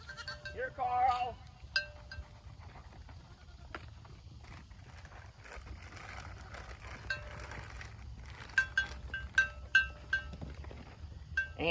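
Baby goats bleat in a short cluster early on, then several quicker high calls follow near the end, with light farmyard shuffling and a person talking in between.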